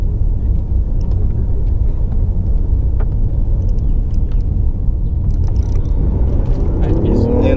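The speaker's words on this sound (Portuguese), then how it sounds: "Aí pisou. Entrou a combustão." Combustion engine of a BMW i8 hybrid, a three-cylinder, cutting in under hard acceleration on a driving course in Campo Grande, a steady loud cabin rumble filling the whole stretch while people talk over it.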